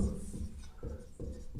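A pen scratches across paper in a few short, soft strokes, faint and close, with no other sounds.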